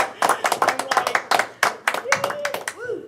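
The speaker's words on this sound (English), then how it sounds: "I just want to applaud." Several people at a board meeting clap unevenly, a burst of sharp overlapping hand claps lasting a few seconds, with faint voices mixed in.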